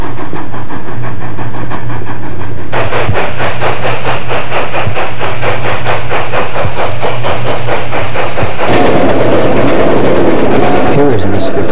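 A Colorado narrow gauge steam train hauling freight cars, a combine and a caboose chuffs in a steady, quickening rhythm with a hissing wash over a low rumble. The sound swells after a quieter start and stays loud throughout.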